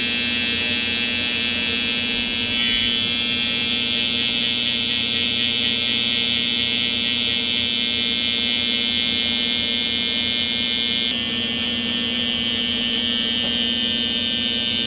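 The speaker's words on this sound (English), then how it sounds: "I'm gonna go in with my babyless skeletons and just barely chip at that" A Babyliss Skeleton hair trimmer buzzes steadily and close up while cutting stubble during a drop fade, a continuous high electric whine whose pitch shifts slightly as it touches the hair.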